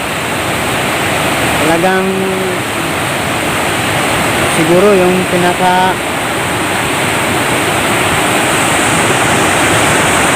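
Flood water pours over an overflowing bridge with a loud, constant, close roar. Someone speaks briefly over the rush.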